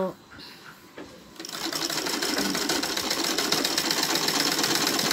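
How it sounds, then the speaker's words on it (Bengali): A sewing machine stitching a salwar waistband starts after a brief pause and then runs in a steady, fast, close mechanical whirring rhythm. "এভাবে পুরোটাই সেলাই করে নিতে হবে"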